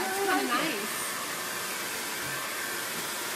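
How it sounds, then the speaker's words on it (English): A hair dryer blows with a steady, loud broadband whoosh that holds evenly throughout, with a short stretch of talking over it at the start. "Especially with the hair dryer blowing."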